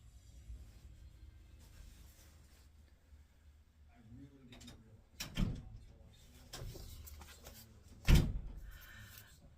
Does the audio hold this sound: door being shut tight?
yes